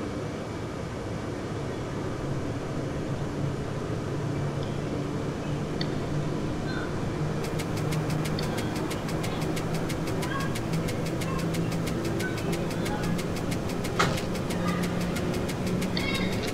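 A Swiss mountain railway train pulls away from the station on the Scuol-Tarasp to Pontresina line, giving a steady low rumble with light rattling and clicking building through the ride.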